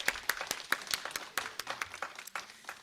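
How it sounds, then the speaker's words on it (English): A small conference audience gives a round of applause at a morning session, sparse individual claps rising and falling over a couple of seconds, fairly close and unaccompanied. "a round of applause"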